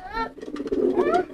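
A male pigeon coos in courtship display, a close, loud run of rippling throaty coos with a short pause, during early training of a homing pigeon.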